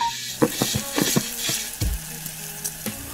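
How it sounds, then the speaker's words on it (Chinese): Pork tripe stir-fried over high heat with red pepper, celery, fermented black beans and dried chilies: steady sizzling frying noise broken by repeated clanking scrapes of a spatula against the wok, close and fairly loud. "继续大火翻炒，出锅撒上大蒜叶"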